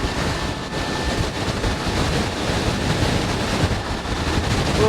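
Headwind buffets the microphone during a fast ride on a KAABO Wolf King electric scooter, making a continuous rushing roar with no speech.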